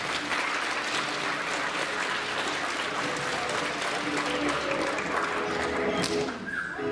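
A fundraiser show audience gives volunteers another round of applause, sustained crowd clapping that fills the room evenly, with some voices mixed in underneath.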